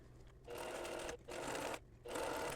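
A sewing machine basting lace onto the hem of a peasant dress runs in three steady, whirring bursts separated by brief pauses, close and clear.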